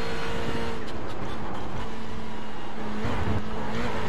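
A Ferrari GT3 race car in the iRacing video game, lapping the Nürburgring GP circuit, drones with a steady, close engine tone that climbs as it accelerates and stays prominent throughout without any voices.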